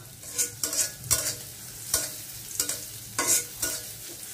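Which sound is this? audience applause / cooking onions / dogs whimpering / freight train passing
cooking onions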